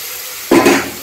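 Boiled dal and greens poured onto melted tomatoes in a pan, a sudden close wet splash and sizzling gush starting midway that swells briefly then eases off, with no talking.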